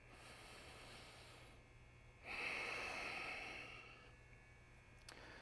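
A slow, steady breath cycle from a live studio flow yoga class, with a long soft exhale swelling in the middle, then fading, over a faint constant hum.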